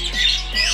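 Pet birds in a backyard aviary let out two loud, harsh squawks close by, the calls coming one after the other with no talking.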